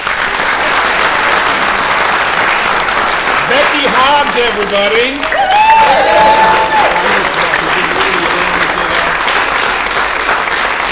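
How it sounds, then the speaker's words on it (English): Loud, sustained applause from a live music show audience fills the whole clip, and someone speaks over it. "Give her a nice round of applause."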